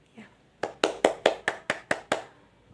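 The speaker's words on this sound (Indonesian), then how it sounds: "beri tepuk tangan dulu untuk Risma ya." A classroom of students claps together for a classmate, about eight sharp, evenly timed hand claps in unison in quick rhythm after a faint murmur.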